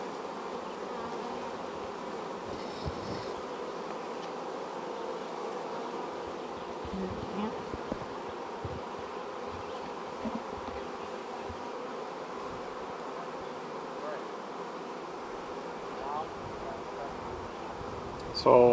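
Honeybees buzz around an open beehive being inspected for a split, a steady dense drone filling the whole stretch, moderately loud and close, with faint voice sounds underneath.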